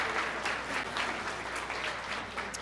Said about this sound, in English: That should be worth an applause